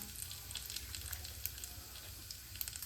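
Cumin seeds roast in hot oil while making a paneer curry, giving a steady, soft, crackling sizzle with tiny pops throughout, close and continuous with no voices.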